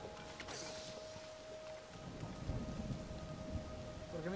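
Rain and rolling thunder in the video game Zelda: Tears of the Kingdom, a faint, steady patter with a low rumble that builds in the second half. A tonal game sound lingers faintly, and no one speaks.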